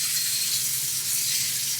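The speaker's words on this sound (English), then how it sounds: "I'm gonna go ahead and rinse this out" Water runs steadily from a kitchen tap while a container is rinsed during butter chicken cooking, a soft, even hiss close by with no speech.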